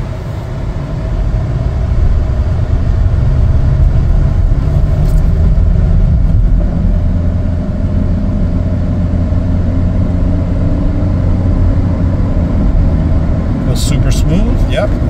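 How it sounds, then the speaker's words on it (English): A 2019 Honda CR-V EX-L on a test drive gives a steady, low cabin rumble of engine and road noise that stays even and continuous throughout, with a few faint clicks near the end. "Take it for a little test drive here."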